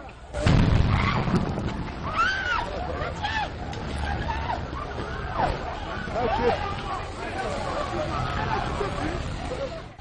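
Explosion at a gas depot in the Mimboman quarter of Yaoundé, a sudden loud blast followed by sustained rumbling roar and crackling, with crowd shouting and speech throughout.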